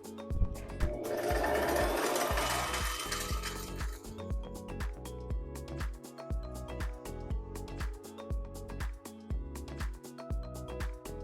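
A sewing machine winds a bobbin with a steady, close mechanical whir lasting about four seconds, then gives way to quick repeated clicking and tapping of the machine's parts, with no voices present.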